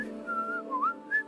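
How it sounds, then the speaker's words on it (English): A character whistles a long, wavering melodic tune in the space video game Starfield, the notes close and clear over a steady low background hum, with no talking. "Why are you whistling for that long?"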